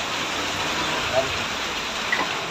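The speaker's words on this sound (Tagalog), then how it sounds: "Inabot tayo ng ulan" Constant rain hiss fills the scene, even and moderately loud, with a couple of faint brief knocks in the background.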